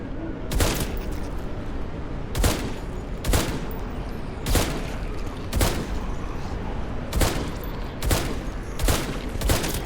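Gunfire rings out in the survival video game HumanitZ, sharp shots cracking at irregular intervals about every second or two, loud and close over a steady background hum.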